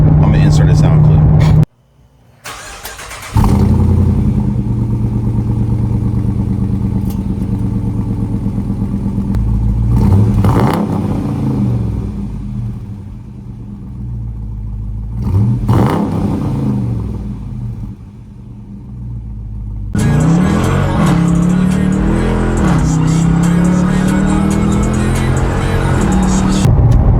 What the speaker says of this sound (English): The way this car sounds really good. I'm gonna insert a sound clip.